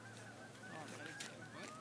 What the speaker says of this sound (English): Wow, are there a lot of geese.